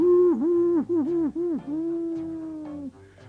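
An owl, said to live in a church bell tower, hoots in a bedtime story for babies: loud, close, wavering calls that break into several short hoots and then one long drawn-out note.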